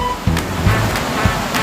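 Waves at high tide on a beach at a camp break steadily and loudly nearby, with a continuous rush of surf.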